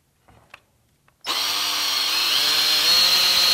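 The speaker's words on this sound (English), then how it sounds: "So all I'm going to do is just ream it out." A cork fishing rod handle is reamed out with a power tool, which starts abruptly after a few faint knocks and then runs as a loud, steady, high-pitched whirring grind until the end.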